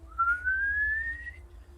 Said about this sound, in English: At this point, there's a sudden high whistling sound,